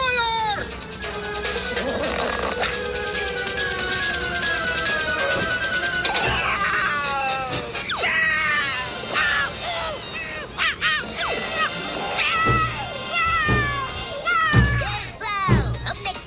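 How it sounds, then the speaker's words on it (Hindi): An animated black tomcat meows and yowls in drawn-out, wavering caterwauls, layered over busy cartoon sound effects and music that run loud and continuous throughout. "हमने कालिया बिल्ला को भगा दिया यार"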